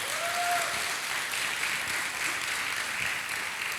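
Congregation clapping in a church during a sermon, a steady, dense wash of applause that holds for several seconds at moderate level, with no speech over it.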